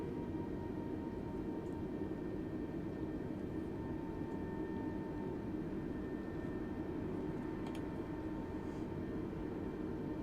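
Steady low rumble of an Airbus A320neo taxiing toward the runway in Microsoft Flight Simulator, a continuous engine drone with a faint tonal whine held constant and close throughout.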